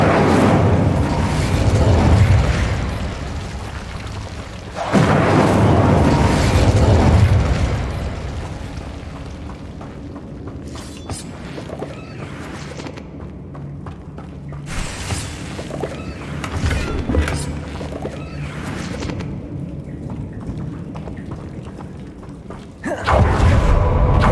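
In Hogwarts Legacy, the Incendio fire spell bursts out in loud, deep whooshing blasts, two close together at the start and another near the end, with a softer rumbling bed in between.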